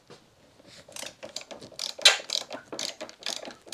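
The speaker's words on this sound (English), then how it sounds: "Apply a lot of downwards pressure and just loosen that screw off." A screw on a Mazda MX5 Miata mk2 wing mirror is loosened with a screwdriver under firm downward pressure, giving a quiet close run of rapid ratcheting clicks that grows busier and slightly louder.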